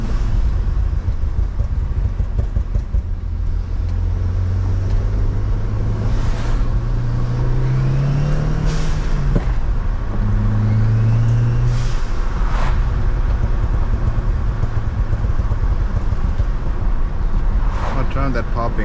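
A turbocharged Audi A4, suspected of a blown turbo or a boost leak, rumbles steadily while driving. Its engine drone rises and falls through gear changes beneath intermittent chatter inside the cabin.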